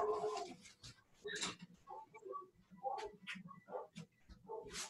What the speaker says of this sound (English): while I go shut my window because of the neighbor's dogs